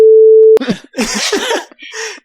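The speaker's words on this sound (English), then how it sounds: "I think you should beep it out." A loud, steady single-pitch censor bleep holds for about half a second and cuts off abruptly, followed by close conversational speech.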